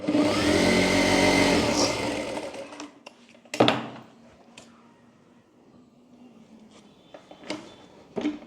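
Sewing machine running in a steady loud burst while stitching the hook strip of a deep-neck back-hook blouse, size 38/40, then stopping, followed by quieter handling clicks and taps.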